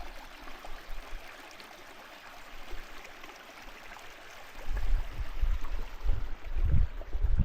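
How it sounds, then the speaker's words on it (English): Water bottle being filled from a stream on the Cape Wrath Trail: a steady low trickle and rush of flowing water, with louder gurgling bursts near the end as the bottle fills, close by and with no talking. "Just filling up with some more water."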